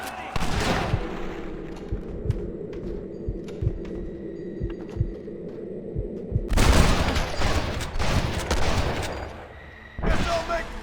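Heavy gunfire in Red Dead Redemption rattles in repeated close shots and volleys, with a louder burst of fusillade midway and another near the end, layered with game sounds and shouting voices.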